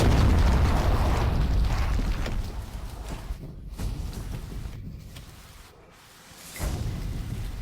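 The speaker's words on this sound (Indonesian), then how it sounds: "Suara ledakan yang terdengar dari lokasi proyek itu." A heavy, rumbling explosion at a mining project site roars out at the start and slowly fades, followed by a few quieter bursts and a final thump.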